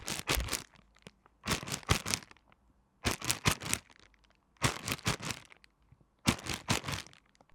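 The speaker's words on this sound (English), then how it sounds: "I used a recording of a plastic bag that I was scrunching up to get this sound effect" A plastic bag is scrunched up in five rhythmic bursts of loud, crisp crinkling, each burst separated by a short silence.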